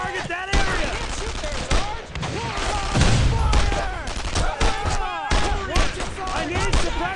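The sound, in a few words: machine gun fire in video game Brothers in Arms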